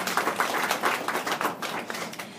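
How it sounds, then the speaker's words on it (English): A small audience claps during a presentation, a dense, fairly close burst of hand claps with an uneven rhythm that carries through the whole moment. "So that deserves a round of applause."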